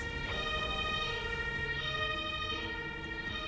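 A loud, continuous ambulance siren wails nearby in a video game, with bright electronic tones and steady rumbling underneath, without any pause.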